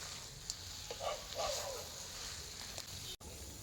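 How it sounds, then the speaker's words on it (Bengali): Crab pieces and potatoes stir-fry in a spice masala, giving a faint, even sizzle broken by a few soft stirring scrapes and clicks, heard alone. "আলুগুলোও দিয়ে দিচ্ছি এখন এই সবগুলো ভালোভাবে এই মশলার সাথে একটু কষিয়ে নিয়ে"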